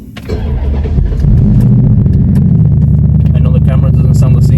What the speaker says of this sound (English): let's get this cold start from the Charger real quick